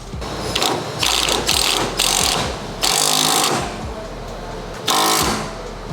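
A ratchet wrench tightening a fitting during a Nissan 350Z kit install: loud, close bursts of rapid clicking, each about a second long, in several separate runs.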